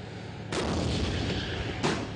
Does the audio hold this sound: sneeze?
no